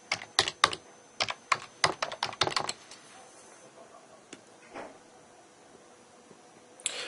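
Username and password typed on a computer keyboard: quick, close bursts of crisp keystrokes that stop after a few seconds, then near quiet with a faint click or two and one last key tap at the end.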